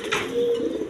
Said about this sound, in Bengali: এখানে এক পেয়ার কিং কবুতর আছে